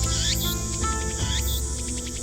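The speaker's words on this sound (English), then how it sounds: "I can hear the chirping of cicadas from the few trees growing here." Cicadas chirping from a few trees at a shrine in the video game Steins;Gate, a steady high-pitched insect drone with repeated rising chirps and a low background hum, no voices.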